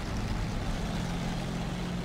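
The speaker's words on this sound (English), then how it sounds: "as my Centurion engine labors to try and get my FE4005 forward to the battle here" A Centurion tank engine labors in War Thunder, a steady low droning rumble with a constant hum, heard alone and continuous.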